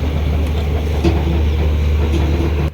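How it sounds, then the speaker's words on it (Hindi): The Shramjeevi Express standing at a station platform in fog, a loud, steady low rumble of idling train machinery with faint clanks, cutting off abruptly at the end. "तो यहाँ खड़ी है श्रमजीवी एक्सप्रेस।"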